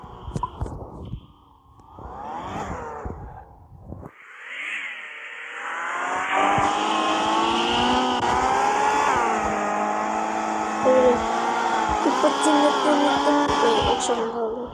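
A car engine revs hard and climbs in pitch, holding a loud, sustained, buzzing whine after a few rising surges, with the tires likely squealing; nearby and continuous for most of the stretch.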